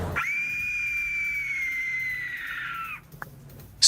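A voice imitates a very loud whistling scream: one long, steady, piercing tone that holds for nearly three seconds, then cuts off abruptly, followed by a brief click.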